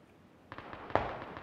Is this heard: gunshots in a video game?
yes